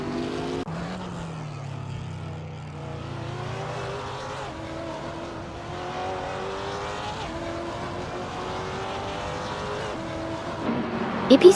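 GT3 race cars lapping a track, one engine note sweeping past early and then a steady drone of engines shifting in pitch, with a few sharper louder bursts right at the end.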